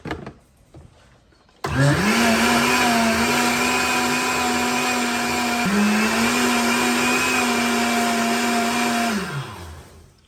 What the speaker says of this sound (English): Pour the mixer back in the blender because I want smoothness.